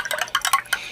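A spoon stirs Citrucel orange fiber supplement in a glass of water, giving a quick series of light clinks and liquid swishes, close and alone.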